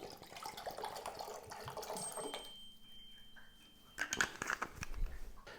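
Descaling fluid poured into the water tank of a Lavazza A Modo Mio Voicy coffee pod machine, a close trickling splash that pauses, then returns in louder gurgling bursts.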